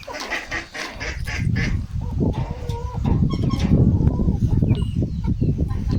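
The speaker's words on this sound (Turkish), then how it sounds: "Ha ördekler de oradaymış evet." A group of ducks quacking and honking close by, overlapping calls in a busy flock, with some people talking in the background.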